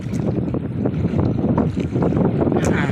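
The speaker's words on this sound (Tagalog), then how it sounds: "Lakas pa ng hangin." Strong wind at sea buffets a fishing boat, a loud, continuous roar of wind noise over the microphone with water and hull sounds underneath, no talking.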